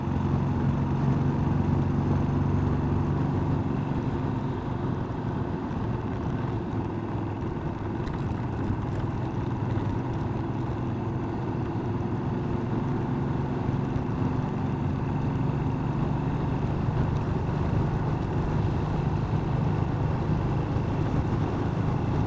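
A Royal Enfield Bullet 500 motorcycle engine labours uphill in fifth gear over the Lecht with heavy luggage, a steady low droning thump mixed with wind rush, continuous and unbroken for the whole stretch.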